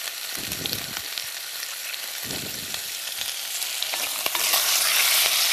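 Unpeeled garlic cloves, lightly crushed, sizzle gently in a pan over lowered heat, a continuous crackling hiss with soft low thumps from stirring, growing brighter and louder near the end.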